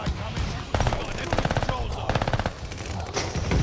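Rapid bursts of automatic gunfire from a video game, several rattling volleys in quick succession over a steady background, with a voice talking underneath.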